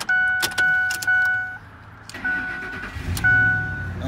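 A 2005 Ford F-150 SXT 4x4 quad cab truck engine starting, with chimes beeping repeatedly before the engine cranks and catches, then settles into a steady close idle, no voices.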